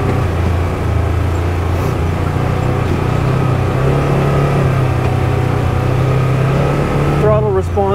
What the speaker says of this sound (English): 999cc engine, parallel twin ProStar, naturally aspirated.